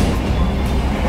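Aboard a nearly empty Bandung Raya local commuter train, a loud, continuous low rumble and rolling hum fill the carriage as it runs along the track, steady throughout with no voices.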